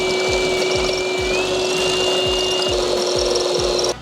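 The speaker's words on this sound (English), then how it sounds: "We're going to drill it out now" A power drill bores out an existing roughly 8 mm hole to 9 mm with a 9 mm bit while a GWM Cannon Alpha is fitted with a Phantom roof platform. The whine is steady and close, with a constant pitch and rhythmic grinding pulses running almost four seconds before stopping abruptly.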